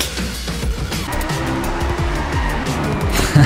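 In the Driveclub racing game, a race car's engine roars steadily up close while its tires squeal and skid through a corner, loud and continuous throughout.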